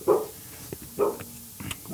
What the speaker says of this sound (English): And that's our dog.